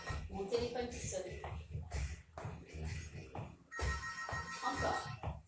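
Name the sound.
mobile phone ringtone ringing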